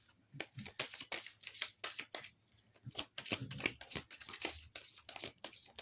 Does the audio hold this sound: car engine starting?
no